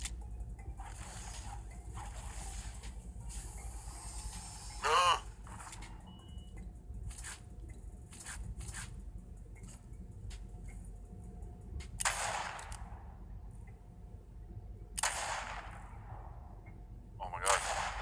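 Scoped revolver sniper shots in a video game: a handful of sharp cracks spaced a few seconds apart over steady game background noise, some followed by brief ringing tails.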